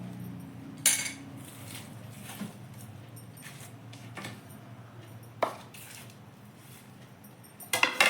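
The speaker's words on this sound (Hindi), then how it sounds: "अब सभी को हम अलसी में मिला लेते हैं।" A spoon stirs ground nuts and coarsely ground edible gum into flaxseed in a bowl, giving a few sharp clinks and scrapes over a low, steady hum.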